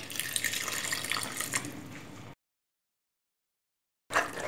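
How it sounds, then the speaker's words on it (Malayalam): Water runs steadily into a pan of coriander, raw mango and prawn curry on the stove, a close, continuous splashing pour that cuts off abruptly, followed by silence and then a brief renewed burst. "നമുക്കിതിനകത്തേക്ക് കുറച്ച് വെള്ളം ആഡ് ചെയ്ത് കൊടുക്കാം"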